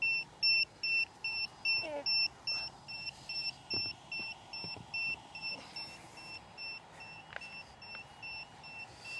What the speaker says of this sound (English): calibrate the remote and see if that stops this annoying beeping